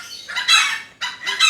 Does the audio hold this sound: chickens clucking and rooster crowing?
yes